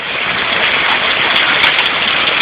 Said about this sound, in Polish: Ta grad zamienił się w obfity porywisty deszcz razem z burzami.